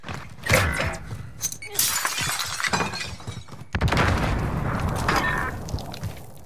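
Window glass shatters as an enemy jumps through it in Modern Warfare Search and Destroy, a loud crash followed by scattered breaking, then a second burst of shattering, mixed with game noise.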